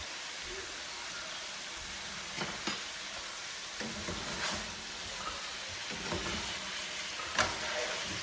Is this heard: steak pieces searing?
yes